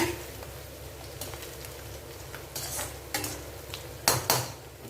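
Vegetable pakoda mixture stirred in a pan over high flame, a quiet bed of frying sizzle broken by several scraping, clattering strokes of a metal spoon against the pan, growing sharper near the end.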